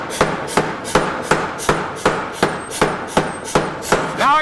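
Steady hammer blows on forge-welded steel at welding heat for a basket hilt rapier, about ten loud, evenly spaced ringing strikes close by, with no talking.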